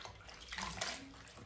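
Running water pours in a steady, close hiss for about a second and a half, with no voices over it.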